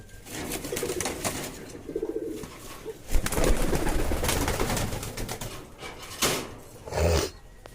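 Pigeons in a loft cooing close by while being bathed, with rustling, fluttering and scattered clatter, including a loud burst of flapping midway and a short splashy flurry near the end.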